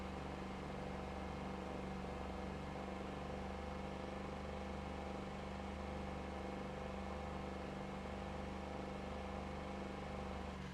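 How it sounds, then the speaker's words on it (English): An electric van in a chicken farming survival video game puts out a simulated rumbling engine sound, a faint, steady low drone with a constant hum and no change in pitch. "That's why I got an electric van that sounds like it's got a rumbling engine."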